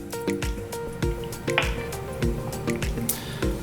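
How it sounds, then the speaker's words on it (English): Rice wine vinegar poured into a lime juice salad dressing, a few close, distinct drips and small liquid plops in quick succession. "we're also gonna add some rice wine vinegar."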